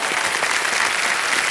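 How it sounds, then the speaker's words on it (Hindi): Studio audience on a Hindi quiz show with a hot seat bursts into loud, dense applause as a contestant receives a prize cheque, a continuous close roar of clapping. "एक बार फिर तालियां बज जाएं क्योंकि चेक आ रहा है इनके नाम।"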